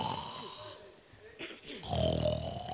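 A man imitates snoring with his voice, making rasping, snorting breaths in a slow rhythm: one drawn-out snore, a brief pause, then a louder snort.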